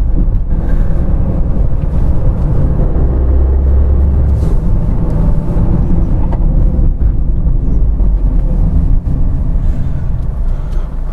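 A Tata Tiago petrol car accelerates, its engine drone steady and loud inside the cabin, mixed with road and wind rumble throughout with no speech.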